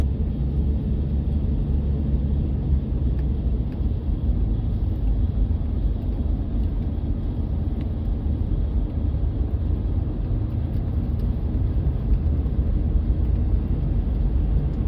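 An old V12 car on the road: a continuous low engine and road rumble, steady and unbroken throughout, heard from inside the car with no talking.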